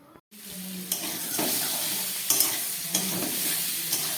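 Vegetable curry of pumpkin, potato, pointed gourd and salted, turmeric-rubbed prawns being sautéed in a pan, a steady close sizzle with periodic scraping stirs of a spatula.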